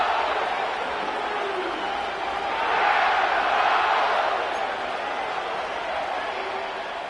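A large stadium crowd at SoFi Stadium in Inglewood murmurs and swells in an EA Sports NFL game, building to a brief roar midway, with commentators talking over it.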